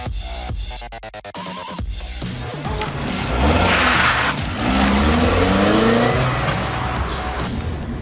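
A Peugeot 208 drives and accelerates on the way to the motorway, engine and road noise steady and close, rising louder midway with a brief tire-like squeal, then settling into a sustained cruising drone.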